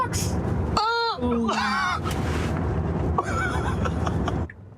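Ducks on a road beside a car in Australia give several loud honking quacks near the vehicle over road noise, and a voice speaks partway through.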